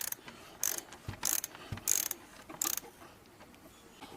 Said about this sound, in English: You loosen the nut in the back.